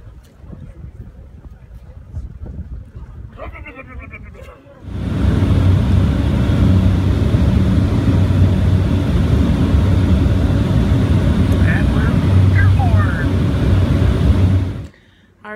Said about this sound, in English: I'll go get the plane started